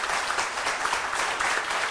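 Studio audience applause on a Turkish daytime crime-and-missing-persons TV show, steady dense clapping filling the whole stretch at moderate loudness with no talk over it.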